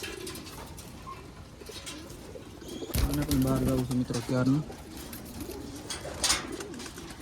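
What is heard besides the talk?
pigeons cooing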